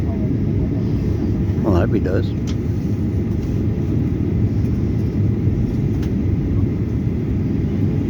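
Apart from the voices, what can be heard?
airplane landing at Sydney airport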